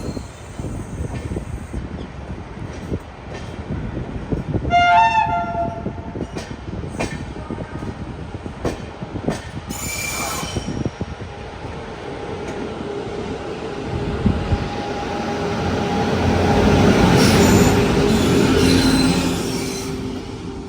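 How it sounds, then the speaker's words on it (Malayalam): A train, the Goa Sampark Kranti from Madgaon to Chandigarh, rumbles past on the tracks, wheels clattering and briefly squealing, the noise swelling louder near the end as carriages roll by. "ഇതുവഴി ഒരു ട്രെയിൻ കടന്നു വരുന്നുണ്ട്"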